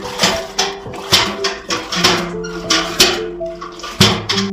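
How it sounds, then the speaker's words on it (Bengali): A bucket stirs water in a well treated with potassium permanganate, giving close, rhythmic sloshing splashes, about one a second, each with a soft hollow knock. "এই বালতি দিয়ে জলটাকে ঘেটে দেবো"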